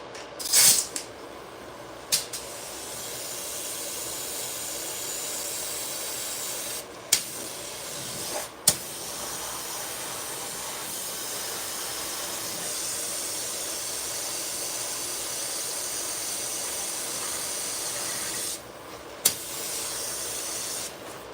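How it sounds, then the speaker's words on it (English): An airbrush sprays paint in a continuous close airy hiss, with a few sharp clicks and brief bursts along the way. "So with the airbrush, you'll be able to get a little bit more strategically in there."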